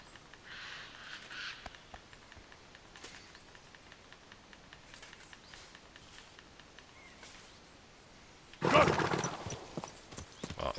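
Inside the medieval game Kingdom Come: Deliverance II, hooves clop softly in a steady walking rhythm and a horse snorts, then late on lets out a loud, close neigh that rises sharply over the quiet background.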